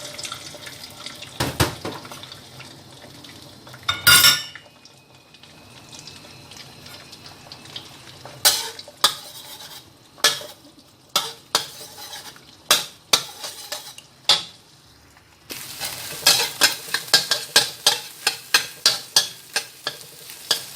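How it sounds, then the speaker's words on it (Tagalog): Eggs fry in hot oil in a pan for pancit lomi. A faint sizzle runs underneath while repeated sharp clatters and scrapes of a utensil come in bursts, growing denser toward the end. "pag mainit na yung mantika, unang gagawin ko, ipa-fry ko muna yung eggs"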